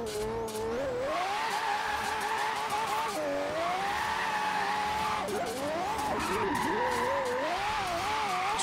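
A Lamborghini drifting in the racing game Forza Horizon 3 on a long-cornered circuit, its engine droning steadily while the tires squeal in long wavering howls that dip and rise through each slide, with no one talking.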